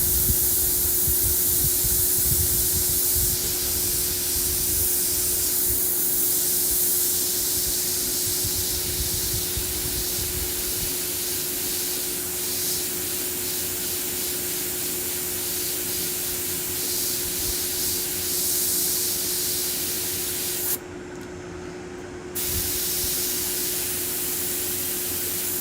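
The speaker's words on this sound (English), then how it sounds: "Make sure your airbrush is always clean and working good. Blowing off your surface first." A close, loud airbrush blows a continuous hissing stream of air over the surface before painting skulls, holding steady with one brief drop near the end, under a constant tonal hum and with no talking.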